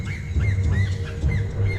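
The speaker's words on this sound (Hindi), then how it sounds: "असल में ये एक होट्जिन बर्ड की आवाज थी" Repeated harsh, wheezy calls of a hoatzin rise and fall over a low background rumble in the Amazon, several in a row at a steady pace.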